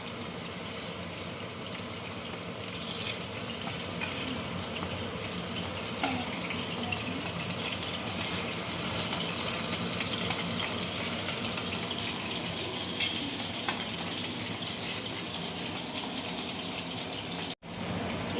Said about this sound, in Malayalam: വറുത്ത എണ്ണയിൽ തന്നെയാണ് ഉള്ളി ഇതൊക്കെ വേവിക്കേണ്ടത്